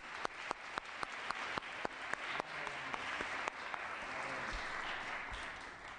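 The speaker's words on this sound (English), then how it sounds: "let's all give her one more round of applause here for her great work" Applause from an audience at a Chicano Latino youth leadership event, steady moderate clapping from a crowd, a few louder claps standing out at first before it settles into an even wash.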